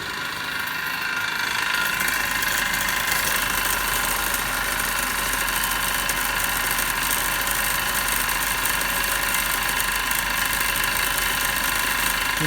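A DC motor on a lab test bench runs at about 1566 RPM with its field current set to 0.5, giving a steady, constant mechanical hum with a faint rattle throughout.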